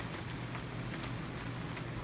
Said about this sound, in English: you can see here it's starting to rain here some